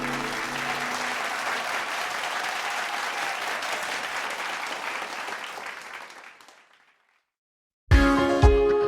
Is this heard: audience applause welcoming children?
yes